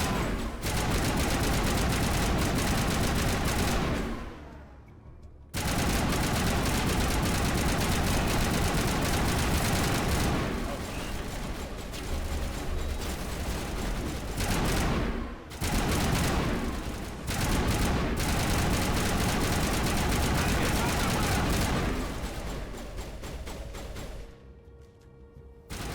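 Sustained rifle and gunfire in the video game Mass Effect, a dense loud barrage of shots that runs almost continuously, broken by a few brief pauses, with chaotic combat noise throughout.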